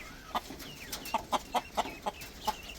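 Farm chickens cluck in a quick, irregular series of short, faint clucks over quiet background noise, with no voices.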